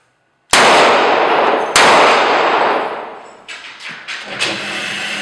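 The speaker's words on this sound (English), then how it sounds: "I'll just fire one right after the other." A DoubleTap .45 ACP derringer fires two sharp, loud shots about a second apart, each with a ringing tail, followed by fainter clattering sounds.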